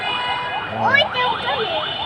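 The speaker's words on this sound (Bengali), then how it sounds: "অ্যাম্বুলেন্সের গাড়ি যাইতেছে" An ambulance siren passes nearby, its wailing, rising-and-falling tone swelling for a couple of seconds amid people talking.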